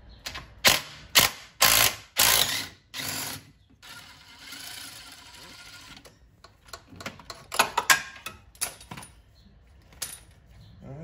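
Ratcheting wrench loosening engine bolts on an Audi B5 S4 during engine removal, several loud, close bursts of rapid clicking separated by pauses, then quieter intermittent clicks and handling noises.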